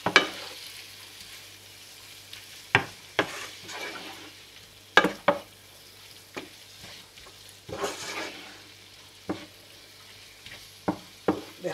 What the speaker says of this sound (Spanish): Dejamos sofreír un poquitín.